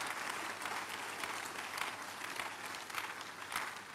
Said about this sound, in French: Donnez à l'Éternel une offrande d'acclamation.